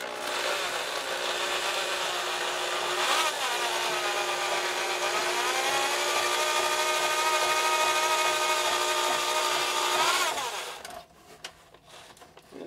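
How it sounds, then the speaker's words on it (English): A BD power drain cleaner drain gun spinning its rotating cable through a clog in a drain gives a steady, close, high motor whine that wavers in pitch for about ten seconds before cutting off, leaving faint handling noise. "you let the rotation of the cable actually work its way through the clog or the obstruction"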